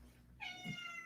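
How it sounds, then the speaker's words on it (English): A house cat gives a single short meow, quiet and fairly close, over a soft background hum. "Kitties are here. They need some fresh food."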